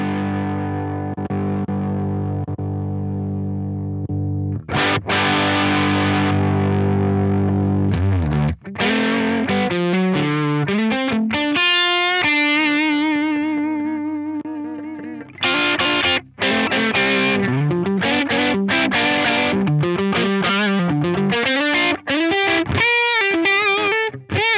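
Electric guitar played through an Axe-Fx Ultra's UK GC30 amp model, based on a Laney VC30, loud and distorted with chorus-like shimmer, opening on a ringing chord, then busy riffs, bends and picked lead runs.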